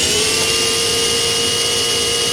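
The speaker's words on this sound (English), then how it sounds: "This is what we bought, so let's start drilling some holes." A power drill bores a 2.5-inch hole through a porcelain sink, a steady loud high whine with grinding texture, heard alone for a couple of seconds.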